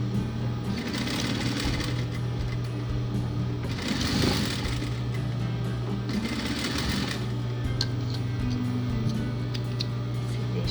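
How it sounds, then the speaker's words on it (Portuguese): A sewing machine runs steadily, stitching around the edge of a fabric cushion cover; its close, even motor hum and rapid needle ticking continue throughout with slight surges, and no one speaks. "Faça uma costura a volta toda, mas você tem que segurar bem as duas partes"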